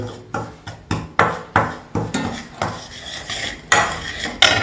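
A salt mixture for homemade ant spray being stirred in a container, with about a dozen rhythmic scraping and clinking strokes of a utensil, close and loud, and no talk.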